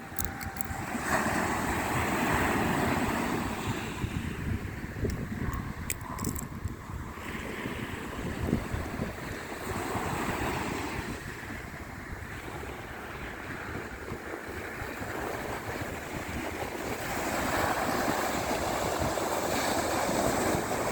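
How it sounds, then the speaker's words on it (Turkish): Steady rushing of sea waves breaking on a seaside shore, mixed with wind buffeting the microphone, continuous with gentle swells in loudness. "Deniz ve dalga huzur."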